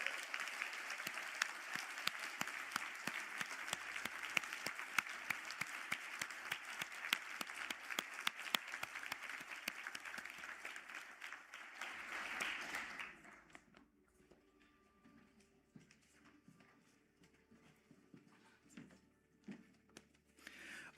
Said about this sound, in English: I ask the graduates of the Master of Science in Applied Marine Conservation and the Master of Science in Conservation Behavior to stand for a well-deserved round of applause.